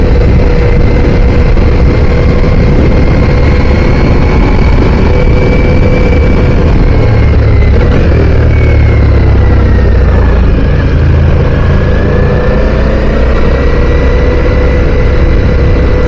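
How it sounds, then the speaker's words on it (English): A Ducati Diavel V4 motorcycle engine runs steadily at idle, a loud, continuous low rumble that holds its pitch throughout with no talking over it. "It's quite a torquey engine."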